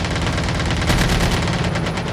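Dense rapid gunfire from a Call of Duty match, loud continuous automatic bursts with overlapping shots filling the whole stretch without pause.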